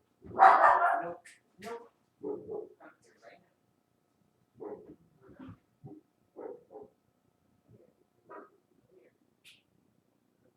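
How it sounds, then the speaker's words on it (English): Neighbours' dogs barking in short scattered bursts at moderate distance, mixed with a person speaking briefly nearby. "Neighbors' dogs were barking."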